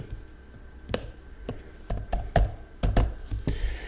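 Keys clack on a computer keyboard as a zip code is typed, a handful of separate, crisp taps spaced unevenly, close and alone with no talking.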